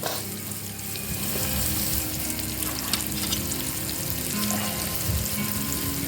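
Food frying in a frying pan during dinner cooking, with a steady dense sizzle and crackle that stays loud and continuous throughout, plus faint clinks of stirring and no talking.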